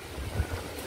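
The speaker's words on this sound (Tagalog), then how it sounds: "Sobrang lakas ng hangin mga idol." Strong wind gusts buffet the microphone outdoors in rainy weather, a steady low rumble with slight swells lasting under a second.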